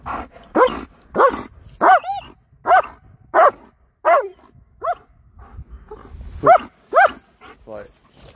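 A German Shepherd barks repeatedly in loud, evenly spaced woofs outdoors, with a few softer yips and whines between the barks.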